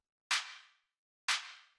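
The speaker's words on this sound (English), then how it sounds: "layered with this clap." A techno clap sample with reverb sounds twice, about a second apart, each a bright, thin, sharp slap with almost no low end and a smooth reverb tail that cuts off cleanly.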